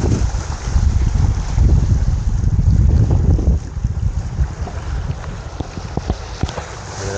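Strong wind buffeting a microphone on a fishing boat at Baseco, loud continuous roaring gusts that ease slightly partway through, with no talking.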